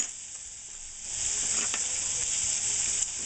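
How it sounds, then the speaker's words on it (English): Yellowfin tuna sautéing fast in a hot pan, a bright continuous sizzle that swells after the first second and holds steady, close and fairly loud, with no talking. "So this is actually very fast working saute here."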